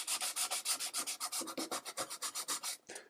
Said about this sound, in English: The second step is to sand the surface of this to clean off anything that's not in those open pore